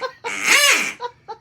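A man imitates a duck with his voice, giving one loud, drawn-out nasal quack followed by two short, clipped quacks, close to the microphone.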